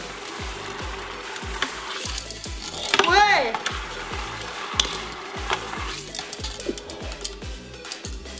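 Chilies frying in hot oil in a home kitchen, a steady crackling sizzle with stirring clatter and a rhythmic mechanical thump underneath, people chatting close by.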